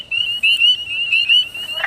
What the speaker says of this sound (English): those are wood frogs